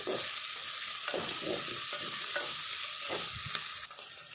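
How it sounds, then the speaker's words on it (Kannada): Red chillies frying in a pan for a chicken uppu kori dish, with a constant bright sizzle and hiss and faint scraping stirs underneath, dropping slightly near the end. "ಕಾಯಿ ಮುಂಚಿ ಫ್ರೈ ಆಂಡ್"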